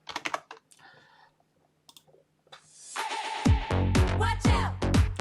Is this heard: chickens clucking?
no